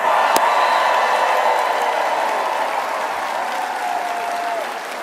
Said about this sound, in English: let's take a moment and give a grateful round of applause for our first responders